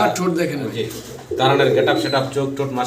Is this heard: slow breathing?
no